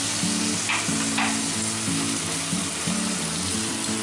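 Soy sauce hits a hot pan of arbi chilli (Kochai Manchurian), raising a steady, close sizzle that holds throughout, with faint music running beneath.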